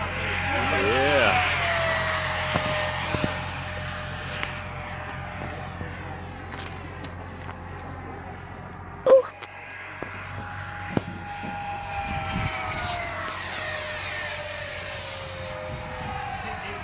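Twin F-22 model jets fly overhead with a steady engine whine that rises and falls as they pass, a brief loud knock midway, and people talking over the noise.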